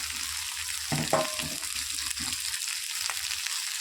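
Potatoes go into a pan of already fried onions for an egg-and-potato dish, giving a steady close sizzle with a brief clatter and scrape as they are added and stirred, no voices.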